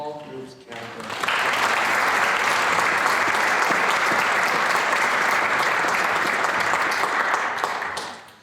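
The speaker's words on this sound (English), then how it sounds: "Please join me in applauding the Easton ASB for their nomination in the Small Groups category." A school awards ceremony audience gives sustained, even applause for the nominated Easton ASB student group. The clapping swells quickly after a brief spoken line, holds steady and loud for about seven seconds, then fades.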